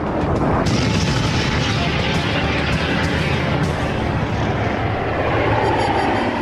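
An F-117 Nighthawk stealth jet flies overhead with a loud, steady, broad roar of engine noise that fills the whole stretch without pause.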